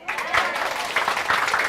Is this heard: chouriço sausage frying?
no